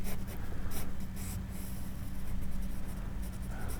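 A pencil drawing on paper with light strokes, a close, continuous scratchy rasp made of quick back-and-forth scribbles, heard alone with no talking.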